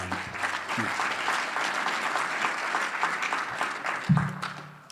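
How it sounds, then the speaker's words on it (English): A room full of people at a citywide recovery meeting in Wichita gives sustained, dense applause that holds steady for several seconds, and a voice comes in near the end. "those claps are for God"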